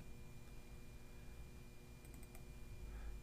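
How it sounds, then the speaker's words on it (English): Someone typing a date on a computer keyboard, soft scattered key clicks with a quick cluster of taps near the end, faint under a steady background hiss. "we can either key it in on the keyboard or by clicking appointment date"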